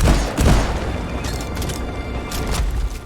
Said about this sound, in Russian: Сигналом к атаке служит взрыв